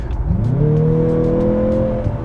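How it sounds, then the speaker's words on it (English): A 2023 Mazda CX-50 Turbo engine revs up and holds a rising, droning whine, with steady road rumble underneath throughout. "I'm noticing a lot of engine and road noise in here compared to other cars"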